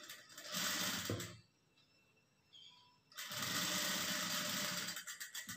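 Sewing machine stitching the neck of a simple blouse, a loud steady whir of needle runs broken by a short quiet pause before the motor starts up again.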